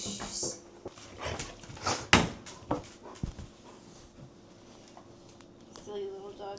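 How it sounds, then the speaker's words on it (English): A small dog makes faint whimpers and soft movement sounds in a home, with scattered knocks and rustles, while a person talks over it. "Silly little dog, I love you."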